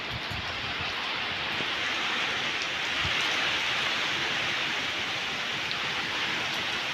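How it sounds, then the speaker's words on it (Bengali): Steady rain falling in Dharmanagar, North Tripura, during Cyclone Remal, a dense even hiss of drops at moderate level, continuing without pause and with no voices. "কালকের থেকে প্রচুর পরিমাণে বাতাস হচ্ছে বৃষ্টি হচ্ছে"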